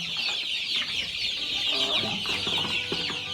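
Several chickens cluck and murmur close by in a continuous chatter, with a high hiss of background noise throughout.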